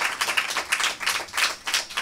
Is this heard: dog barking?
no